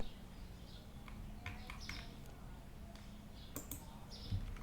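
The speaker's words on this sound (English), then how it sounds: "I just hear birds chirping. Birds are chirping." Birds chirp in short, faint calls through an outdoor ambience in a supermarket-management game, mixed with keyboard typing and mouse clicks.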